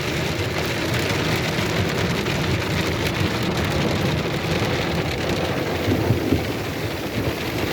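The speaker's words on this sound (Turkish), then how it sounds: "Felaket bir dolu yağdı ya." A heavy hailstorm pelts down in a dense, continuous clatter of falling ice and rain on hard surfaces, loud and unbroken throughout.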